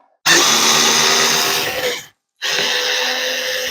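A Ryobi FVD51K cordless screwdriver runs in reverse to back a screw out, a loud close whirring motor that runs steadily, cuts off briefly, then whirs again.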